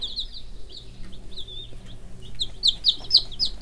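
A golden Polish hen with a big crested head clucks and chirps in short, close, repeated bursts, growing busier and louder toward the end over a low background hum.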